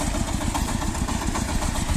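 A Shifeng SF-240 tractor engine chugs under load while pulling a loaded homemade grain trailer, a close, steady low pulsing throb with no breaks.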